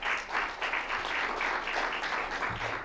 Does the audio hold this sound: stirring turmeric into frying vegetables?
no